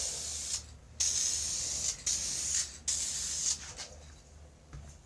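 Lacquer sprayed from a spray gun in several hissing bursts separated by short pauses, close and steady, with no talking.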